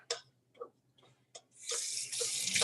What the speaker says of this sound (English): And we're gonna get hot water, okay? Hot tap water.